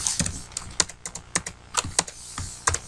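Keys clatter on a computer keyboard as Visual Basic code is typed, a close series of sharp, irregular clicks in short bursts with no talking.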